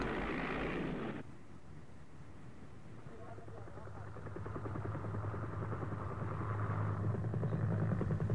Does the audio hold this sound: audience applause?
no